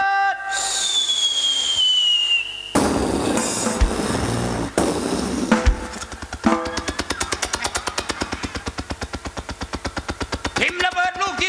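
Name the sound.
voice imitating falling bomb and explosion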